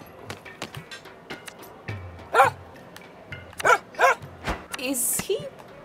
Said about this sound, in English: there's a difference between a dog barking because you approach it and active attempts at cross-species communication